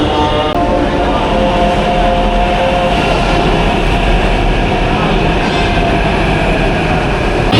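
A Hyderabad metro train pulls into an elevated station with a loud, continuous rumble and rolling rail noise, a steady mechanical roar that dominates throughout.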